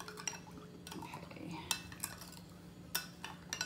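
A spoon stirs a cornstarch sauce for beef and broccoli in a small dish, making rapid, close clinks and scrapes in a steady rhythm under a low background hum.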